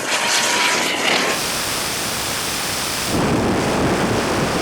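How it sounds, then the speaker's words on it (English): A Lamborghini Huracan and a Rimac Nevera launch side by side in a drag race from 50 mph in third gear, making a loud, continuous rushing roar that swells again near the end. "This time though from 50 miles an hour, and Jürgen will be in third gear."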